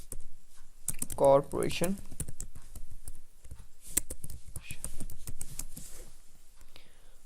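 Keys clatter in quick bursts on a computer keyboard while someone speaks Hindi over the typing, entering a company name into a lead-generation spreadsheet.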